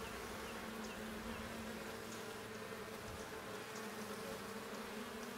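Honey bees buzz in a steady, dense drone during a spring hive inspection, with the sound continuous and close but fairly quiet.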